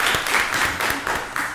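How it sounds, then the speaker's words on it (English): Audience applause at a county commissioners meeting, a brief burst of clapping from a modest crowd in a meeting room. "Let's give all those folks a wonderful round of applause"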